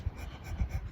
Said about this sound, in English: Heavy breathing. Like that.